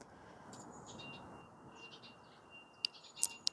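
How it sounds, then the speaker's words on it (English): Small birds, including a blue tit, chirp in an autumn wildlife garden with a few sharp, fairly close calls toward the end over a soft outdoor hush. "there are lots of little birds flitting around in these beds"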